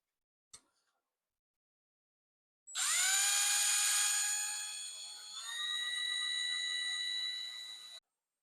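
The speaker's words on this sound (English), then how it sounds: "I'm going to drill a hole in each side" A high-pitched drill whines steadily for several seconds, its pitch dropping slightly midway as the bit bites into a metal grill bracket for a 1964 Ford Falcon, after a brief click.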